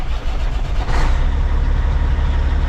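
A truck engine runs at a steady idle, a loud, continuous low rumble with a brief brighter swell near the start, no one speaking over it.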